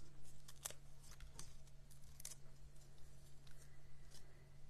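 Backing is peeled off small adhesive foam dimensionals for a card, a few quiet, quick crackling peels and faint papery ticks close by in a quiet room over a low steady hum.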